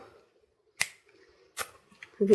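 Scissors cutting paper for scrapbooking, with a few sharp, separate snips close by and quiet pauses between them, followed by a low voice at the end.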